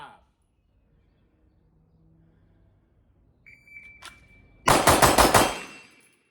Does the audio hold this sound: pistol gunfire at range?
yes